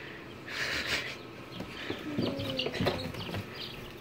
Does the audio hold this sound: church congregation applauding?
no